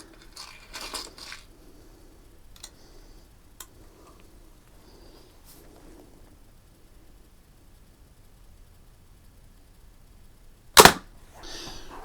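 A single sharp shot from a Daisy Red Ryder 499B BB rifle fired at a target, one brief loud crack near the end after a long quiet stretch of faint handling noises.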